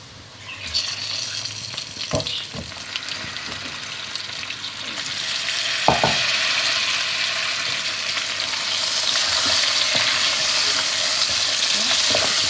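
Steady frying sizzle from chicken frying in a pan with occasional stirring clatter and scraping, fairly close, continuous throughout with no talking.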